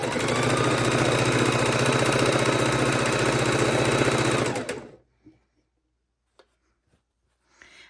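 A sewing machine chain stitching quilt strips runs in a steady, loud mechanical whir for about four and a half seconds, then stops, leaving near silence with a few faint clicks.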